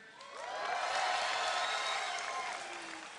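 A BlizzCon 2010 StarCraft grand finals arena audience cheers and applauds, a broad crowd roar swelling within the first second and holding steady with scattered whoops before easing slightly.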